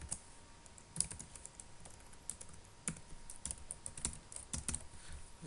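Rapid, irregular clicking of keys on a computer keyboard, close and fairly quiet, with occasional heavier taps and no talking.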